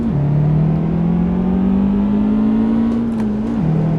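A car accelerates in Euro Truck Simulator 2, its engine holding a steady hum that rises slightly in pitch and then dips briefly near the end, loud and close.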